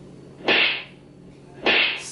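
A slash whip sound effect played from a V9 sound card for videoke and live streaming: two sharp whooshing cracks with noisy decaying tails, evenly spaced, loud and alone.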